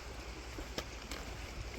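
A big creek flowing strongly along a long-distance trail, a steady, broad rushing wash of water with no voices.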